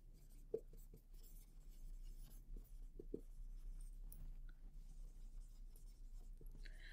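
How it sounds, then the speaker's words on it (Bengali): A pen scratches across paper in quick, uneven strokes with a few sharp taps, faint and close in a quiet room with low background hum; no one talks. "তাহলে চলো ঝট করে লিখে নিই।"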